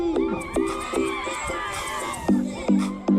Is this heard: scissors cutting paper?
no